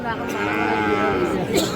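A bull calf at a busy rural cattle market gives a long, loud, close moo that carries through the whole stretch, with faint crowd chatter behind it.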